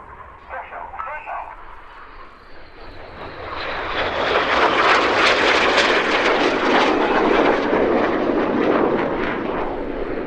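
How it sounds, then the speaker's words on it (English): Red Arrows jet aircraft dive down to about 100 feet over the airfield at RIAT 2024, their roar building from a distant whine into a loud, sustained broadband rush that stays heavy to the end, with a commentator audible beneath. "Each pair will now dive down to only 100 feet above the airfield."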